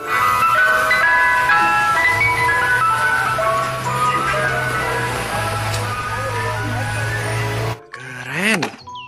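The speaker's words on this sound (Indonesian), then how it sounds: "mobil truk es krim" Ice cream truck plays its bright, tinkling jingle melody steadily for several seconds, fairly loud, then cuts off abruptly, followed by a few short clunks and whooshes.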